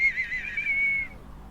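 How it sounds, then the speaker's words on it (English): A whistle is blown once, a single shrill, steady note that holds for about a second and then stops, with no talk over it. "You don't like the whistle, do you, Mrs. Groynes?"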